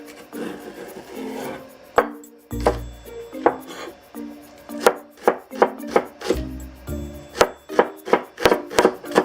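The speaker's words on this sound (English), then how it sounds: "And we'll mince the green onion." Knife chopping green onion on a board, a quick run of sharp, close taps that speeds into a dense rhythmic series, with a few heavier knocks in between.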